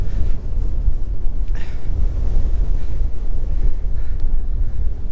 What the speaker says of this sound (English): Okay, well, it's a bit windy, but the rain has stopped.